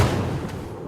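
An RPG launcher in Rising Storm 2 fires with a firework-like crack, a loud low burst that rings briefly and fades.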